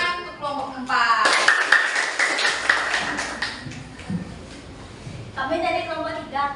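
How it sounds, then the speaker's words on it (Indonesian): Students clapping in a classroom after a group presentation, a burst of hand claps rising in the middle and fading, with a voice speaking before and after it. "Tepuk tangan untuk kelompok 4."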